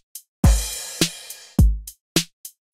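A short drum beat in 4/4 time plays alone: punchy kick thumps alternate with sharp snare cracks and light hi-hat ticks in a steady, even groove.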